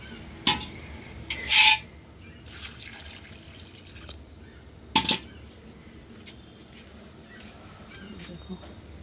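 Water is poured over pumpkin plants in a garden, with soft splashes and drips, a couple of sharper spraying bursts and faint vessel clinks over a quiet outdoor background with brief voice sounds.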